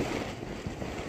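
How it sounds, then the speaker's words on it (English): Strong wind gusts across the microphone on a stormy Arctic beach, a dense, steady rush with faint surf behind it. "Oh my God, it's so windy."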